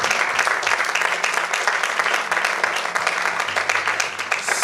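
A church congregation at a Sunday service applauds, dense continuous clapping from many hands filling a large room, steady and loud throughout.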